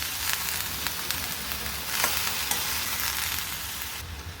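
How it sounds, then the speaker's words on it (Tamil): Ginger garlic paste and tomatoes sizzle steadily in a pan, a dense, close crackle with occasional stirring scrapes, no voices. "இஞ்சி பூண்டு பேஸ்ட் போட்டு ஒரு 2 நிமிஷம் வதக்குனதுக்கப்புறம் இதில் தக்காளி 3 பெரிய தக்காளி சேர்த்துக்கிறேங்க"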